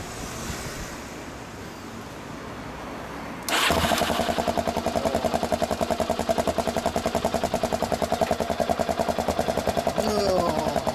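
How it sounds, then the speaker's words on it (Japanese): A Honda XR250 motorcycle engine starts after a few quiet seconds, then settles into a steady, close, rapidly pulsing idle that keeps running to the end with no talk. "XR250 エンジン音聞かせてくれる。"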